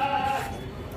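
A large-framed Patira Gulabi male goat gives a short, nasal bleat that fades after a fraction of a second, leaving a low background murmur that may include faint voices.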